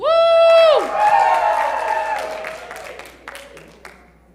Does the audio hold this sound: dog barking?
no